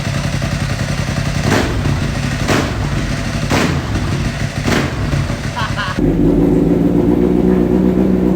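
A Kawasaki H2 police motorcycle with a drag clutch idles with a steady rumble, then is revved in several sharp bursts, roughly one per second, loud and close.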